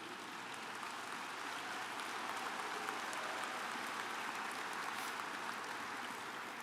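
An audience applauds at the 2012 Berkshire Hathaway annual meeting; steady, distant clapping fills the hall evenly and stays faint throughout, with no voices over it.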